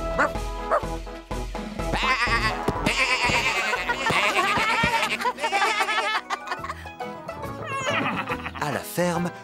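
Sheep bleat repeatedly amid a lively cartoon-style mix of barking and music on a farm in Tractor Tom, loud and busy throughout.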